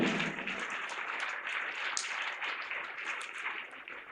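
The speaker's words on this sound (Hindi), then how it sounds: "एक बार इनके लिए जोरदार ताली बजाएं" An audience at a live Jain religious discourse claps together in a steady, moderately loud round of applause that continues without a break and thins slightly near the end.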